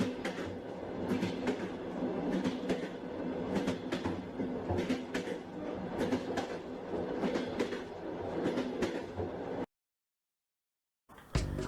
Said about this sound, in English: Our train will be arriving at Habara station shortly.